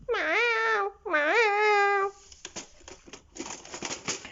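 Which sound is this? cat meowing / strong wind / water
cat meowing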